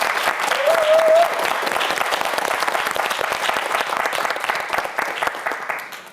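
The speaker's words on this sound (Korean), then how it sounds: "큰 박수 부탁드립니다" Sustained applause from an audience at a televised student science quiz show fills the clip, dense steady clapping that tapers slightly near the end.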